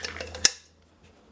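Metal backpacking cooking pot being handled, with several quick clinks and scrapes close by and one sharper knock, then a brief pause and another clank.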